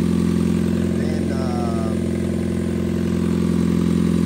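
A running engine with an exhaust leak idles steadily and loudly, a constant low drone with a faint ticking clatter, while someone talks over it.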